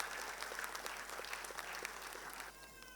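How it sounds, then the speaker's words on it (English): Audience applause at a school annual day ceremony, steady broadband clapping from a crowd lasting about three seconds and thinning slightly toward the end, with faint background sounds. "A big round of applause, ma'am."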